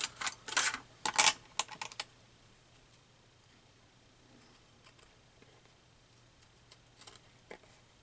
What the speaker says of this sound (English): I'm going to use my sticky scissors